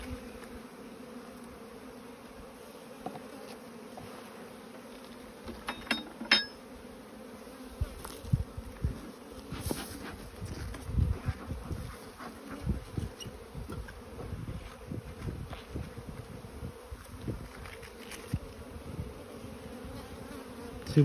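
Agitated honeybees buzz steadily while a hive is transferred from a nucleus box into a full hive, a dense close insect drone with a few louder surges and occasional handling knocks, and no talk.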